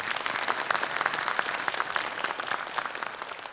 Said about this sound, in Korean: 두 분의 코넷 그리고 클라리넷 연주자분께 다시 한번 큰 박수 보내주십시오.